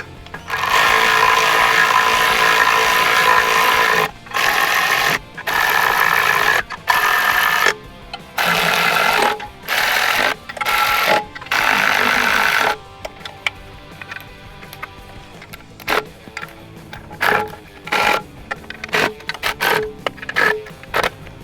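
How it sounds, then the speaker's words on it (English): A power ratchet or impact driver runs in repeated loud bursts while tightening bolts on a transmission pan skid plate under a Jeep Grand Cherokee ZJ, followed by a series of quicker, lighter clicks and zips. "And come back and tighten up the bolts."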